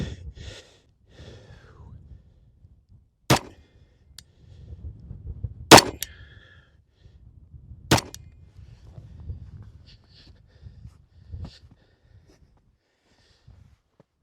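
Three sharp, loud reports from a Glock 37 pistol in .45 GAP firing 200 grain Speer Lawman rounds at an outdoor range, spaced a few seconds apart, with breathing and soft handling noises between shots.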